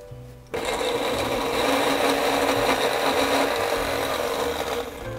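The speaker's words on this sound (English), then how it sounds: "we're going to just put this right in a blender, all the figs" A blender purees figs with spices, starting abruptly into a loud, steady, high whirring drone that holds evenly for several seconds nearby, with no talking.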